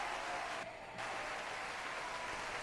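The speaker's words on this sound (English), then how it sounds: "Yeah, I do got the cheering." A canned cheering sound effect plays in a podcast studio, a steady, dense wash of crowd applause and cheers that dips briefly partway through, with no voices over it.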